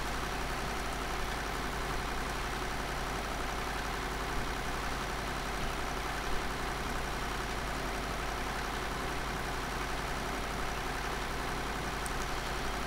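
A tractor engine drones steadily in Farming Simulator 2013, a constant low, even rumble that runs unbroken throughout with no talk over it.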